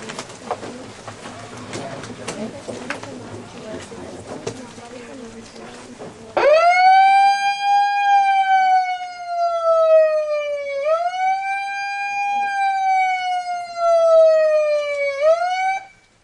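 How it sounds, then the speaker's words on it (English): After quiet ambient murmur and birdsong, a memorial siren for Yom Hashoah starts suddenly and wails loudly and steadily, rising and falling in slow swells for about ten seconds. "Please rise as we sound the siren."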